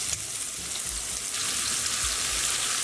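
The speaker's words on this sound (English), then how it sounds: "So the idea is just to fry them all sides, just to seal them." Dense, even sizzle of buffalo chicken lollipops searing in a hot pan on all sides, a steady bright crackle with occasional soft low knocks and no speech.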